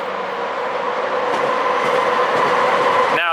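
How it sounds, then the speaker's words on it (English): Steady roar of heavy traffic on a nearby interstate highway, a loud continuous rumble and hiss that swells slightly toward the end, with no talking. "Pardon all the noise of the interstate."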